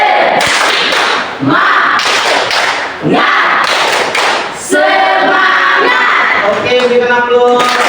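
A standing university class performs a loud rhythmic spirit-clap routine, bursts of unison claps and thuds in patterned groups, with crowd voices shouting along close by.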